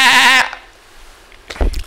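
A goat gives one loud, close bleat that stops abruptly, followed by quiet and then a short muffled thump and rustle.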